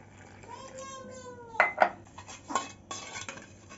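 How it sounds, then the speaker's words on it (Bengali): Milk being stirred into pitha batter in a bowl, with a few close clinks and scrapes of a utensil against the bowl over a steady hum, and a voice talking at the start. "দুধ নিয়ে নিয়েছি 1 কাপ, দিয়ে ভালো করে গোলাচ্ছি।"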